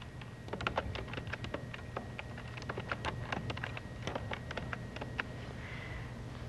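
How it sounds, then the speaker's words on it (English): Rapid, uneven keystrokes clatter on a computer keyboard while text is typed into a WordPerfect 6.0 for Windows document, close and clear over a faint steady hum. "Just use your keyboard to type in a new title."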